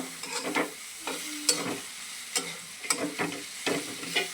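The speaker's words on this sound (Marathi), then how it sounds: "चला भेंडी टाकायला लागले ह्याच्यातच मी" Okra being added to a hot pan and fried, a steady sizzle broken by repeated sharp scraping and stirring knocks of a spatula at irregular intervals, close and clear, no talk.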